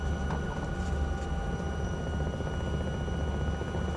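Alouette III helicopter in flight, recorded from on board: a loud, steady rotor and turbine drone with low thumping throb throughout, continuous and close.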